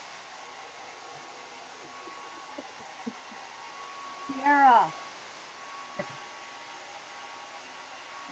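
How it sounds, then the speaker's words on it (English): A hair dryer runs loudly as a steady broadband whoosh through the whole stretch, while a voice briefly speaks over it in the middle and a few small clicks come through. "I can hear her dryer really loud"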